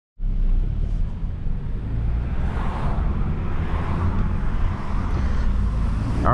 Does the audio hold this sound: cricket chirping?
no